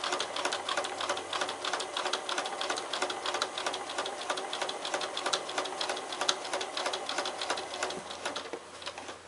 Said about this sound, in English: So I'm going to start sewing on my machine